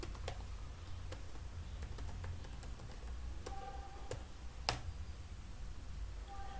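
Quiet, sparse key clicks on a computer keyboard as an email ID is typed, isolated taps at irregular intervals over faint background hum.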